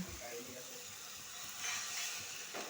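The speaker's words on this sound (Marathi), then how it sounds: "आता टाकून घेणार आहे पाणी" Water runs steadily into a pot of moth bean curry with turmeric for a few seconds, a soft continuous splashing pour, close by with no talking.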